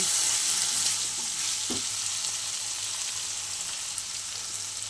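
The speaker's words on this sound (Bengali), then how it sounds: "বেশ ভালো করে আমি ভেজে নেব" Amaranth greens (note shak) fry in a pan with a steady, bright sizzle that holds throughout, broken by one short soft knock near the middle; no voices.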